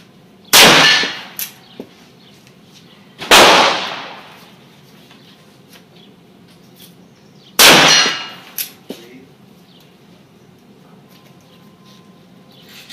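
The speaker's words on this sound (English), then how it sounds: "So first we'll shoot 5 rounds from a rest with a Beretta Stampede." Three loud, sharp gunshots from a Beretta Stampede .45 Colt revolver fired outdoors from a rest, spaced a few seconds apart, each followed by a short ring and faint metallic ping of a steel target.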